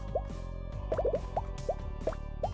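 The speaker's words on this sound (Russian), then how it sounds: "пузырь лопнул" Bubbles popping in the Cthulhu Must Die game: a string of small, quick watery plops, some in fast clusters, set over a steady humming music bed.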